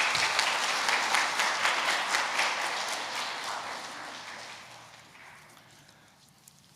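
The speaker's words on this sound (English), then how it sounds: "Round of applause again, folks." Audience applause fills a school awards assembly hall, steady dense clapping from many hands that gradually thins and fades toward the end.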